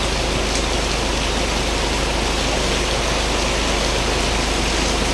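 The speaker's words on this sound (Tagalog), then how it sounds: "Ulan dito sa amin ngayon." Steady rain pours down outside during a Mitsubishi Adventure 4D56 turbo conversion, a dense, even hiss that holds at a constant level throughout with no voices.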